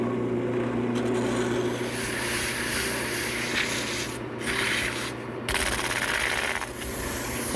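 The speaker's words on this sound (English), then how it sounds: "while the leg is still on the lathe, I want to sand it smooth" A wooden table leg turning on a lathe is sanded smooth, a continuous loud rushing friction over the steady motor hum, rising and falling in short surges with no voices.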